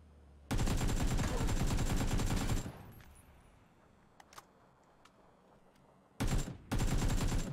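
A bot fires a shotgun in PUBG: two loud, sustained blasts of gunfire, the first lasting about two seconds and the second near the end. A quiet stretch between them holds a few faint pops.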